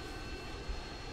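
Steady airplane engine drone in the Roblox game Mad City, a smooth continuous hum at moderate level with no talk.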